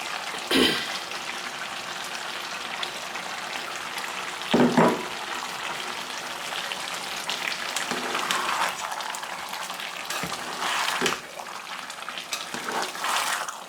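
Egusi soup with scent leaf bubbling and being stirred in a pot, a low continuous simmering hiss with occasional spoon scrapes and thumps, close by and moderately loud.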